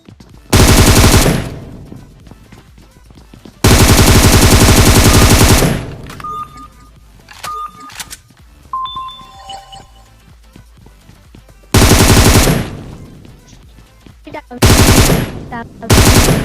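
Gunfire in the mobile battle-royale game PUBG Mobile comes in loud bursts of rapid automatic shots, separated by quieter stretches of footsteps and brief interface tones.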